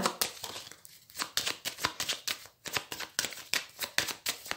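Tarot cards used for consultations are shuffled and cut by hand, a close, crisp sequence of rapid riffles and slaps in quick bursts, clear and alone with no voice.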